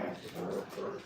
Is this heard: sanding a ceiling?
no